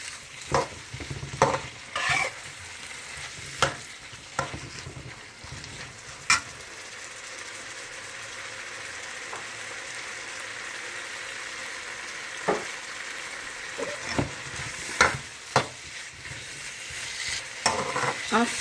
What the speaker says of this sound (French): Comme ça, la pâte de tomate va cuire pendant que l'oignon tombe.